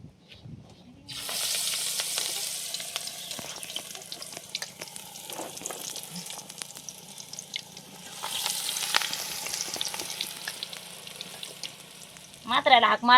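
Coriander bhaji fritters made with gram flour fry in hot oil, a dense close crackling sizzle that swells, eases and swells again, with scattered clinks of a utensil and a brief louder clatter near the end.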